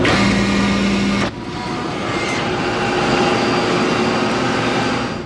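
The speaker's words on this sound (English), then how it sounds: "Then there was kind of a grinding noise." Loud, steady grinding roar inside an airliner cabin just before a cargo door failure, a dense broadband rumble with a sharp shift about a second in, continuing without pause.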